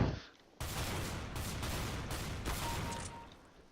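Rapid automatic gunfire from weapons in the Counter-Strike: Global Offensive video game, a dense, sustained burst of shots with a few brief gaps, loud and continuous with no speech over it.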